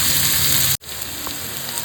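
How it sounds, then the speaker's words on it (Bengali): Three large chopped onions sizzle steadily in hot oil in a pan, frying down for a Bengali tilapia curry; a close, even hiss that cuts out abruptly for a split second, then resumes. "দিয়ে সুন্দর করে নরম নরম হবে ততক্ষণ এটাকে একটু কষাবো পেঁয়াজটাকে"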